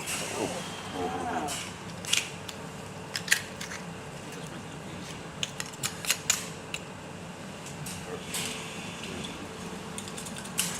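A knife pries and twists open an oyster shell in a professional restaurant kitchen, giving sharp scattered clicks and scrapes under steady talk.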